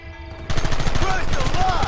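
Rapid gunfire in the Western video game Red Dead Redemption 1, where a posse opens fire on enemies. A short, loud, dense burst of shots starts abruptly after a brief quiet lead-in, mixed with shouting voices.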